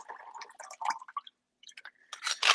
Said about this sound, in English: I'm pouring it into my measuring cup.